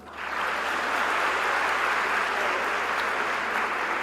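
A large audience at a university convocation breaks into sustained applause, rising quickly and holding as a dense wash of clapping throughout.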